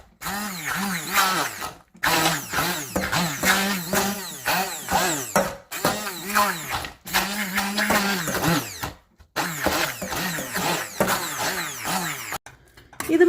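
A hand blender purees cooked beetroot for pachadi in short bursts, its motor whining and surging in pitch as it churns, with brief pauses between the runs.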